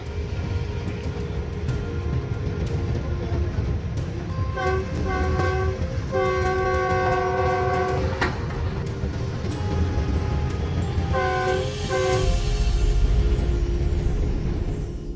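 A train rolls along the tracks in a steady rumble, sounding its horn in two sets of long blasts, the first set running through several toots in the middle and a second pair near the end.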